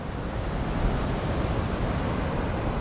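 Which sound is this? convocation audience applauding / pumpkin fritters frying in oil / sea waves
sea waves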